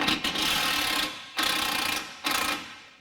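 A ratchet wrench with a 21 mm socket loosens a steering linkage bolt, giving fast, rapid-fire clicking in three close bursts separated by short pauses.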